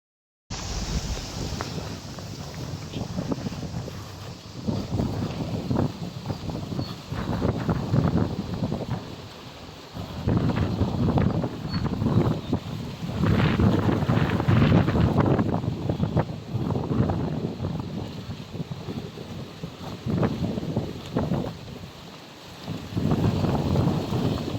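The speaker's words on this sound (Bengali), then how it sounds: "অনেক বাতাস আজকে।" Strong wind blows outdoors along a road, buffeting the microphone in a continuous, loud, gusting roar that rises and falls throughout, with no clear voices.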